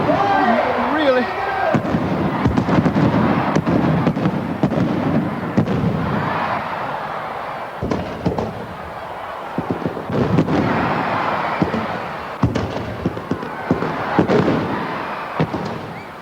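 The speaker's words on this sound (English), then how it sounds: "Now get ready for the fireworks." Fireworks crackle and boom through a grotto celebration, a dense run of bangs and bursts spread over many seconds beneath a cheering crowd and talking voices.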